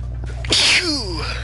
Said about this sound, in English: I'm sorry, I just sneezed.